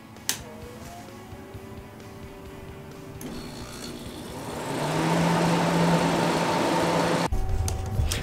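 A chiller compressor, plugged back in to freeze a 330-gallon tote of water, starts with a steady motor hum and tonal whine. The hum swells to a louder, fuller drone around midway and holds steadily, with a brief dip near the end.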